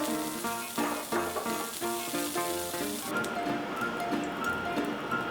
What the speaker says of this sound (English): So next, I'm just gonna saute these mushrooms.